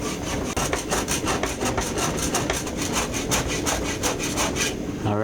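Two clamped wooden pieces held side by side in a vise are shaped for a costume prop. Loud, steady back-and-forth rasping strokes repeat in an even rhythm, close up, then stop near the end.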